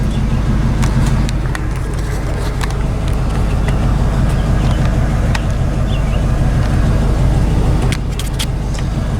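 A 1984 Chevrolet K20 truck engine bogs down under acceleration on a road trip, a loud, heavy, continuous low rumble with rough, labored pulsing, close and without speech.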